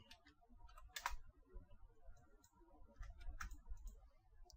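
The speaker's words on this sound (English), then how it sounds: "If I type Microsoft.com, then I'll just check. And type." Someone types quietly on a computer keyboard, a few short bursts of key clicks with pauses between them, faint against a quiet room.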